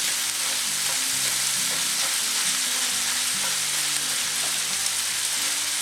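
Ground venison sizzles and crackles in a hot cast iron pan while a utensil scrapes and breaks the meat apart, giving a constant frying hiss broken by repeated scraping strokes.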